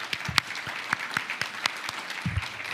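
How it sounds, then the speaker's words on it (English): A small audience at a public education budget forum claps, scattered and uneven, a modest round of applause from a handful of people. "a round of applause"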